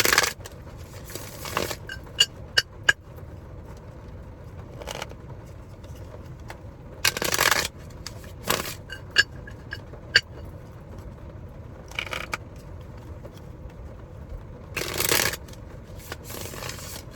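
Playing cards being shuffled by hand, several quick riffling bursts separated by pauses, with small taps and clicks between, close and fairly clear with no voices.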